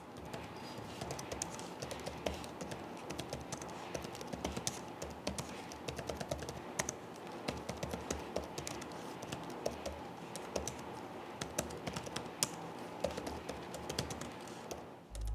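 Typing on the keyboard of an Acer Aspire Vero AV14-51-59QK laptop, a continuous run of quick, light key clicks with uneven rhythm, close and moderately quiet, with no voices.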